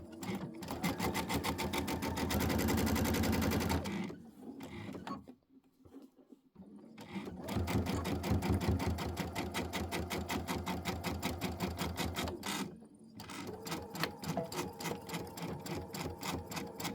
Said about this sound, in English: Go ahead and sew them together.